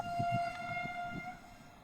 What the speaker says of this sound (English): There's also a bit of a train in the background.